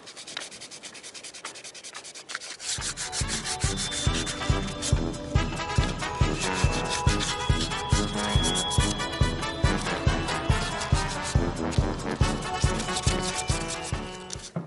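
Rhythmic rubbing as a Lofrans windlass part is cleaned during maintenance, steady repeated strokes, close and loud, starting after a quiet opening.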